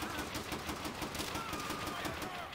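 Mounted machine gun in the video game World at War firing rapid, evenly spaced bursts of shots, fairly faint in the mix, with a constant rattle lasting the whole moment.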